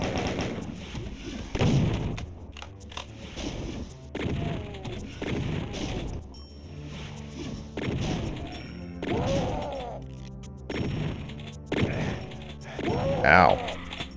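Repeated bursts of weapon fire and mechanical clanks from the classic shooter Final Doom TNT on the Metal map, coming in regular rhythmic volleys with a few grunts and effects layered between shots.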